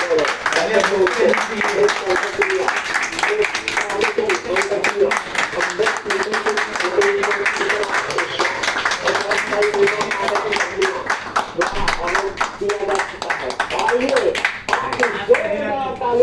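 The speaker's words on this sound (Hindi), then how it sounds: "तो आइए जोरदार तालियों से उनका स्वागत करते हैं।" Loud, sustained applause welcoming a motivational speaker at a live event, a dense stream of rapid clapping that holds steady for the whole stretch, with voices mixed in underneath.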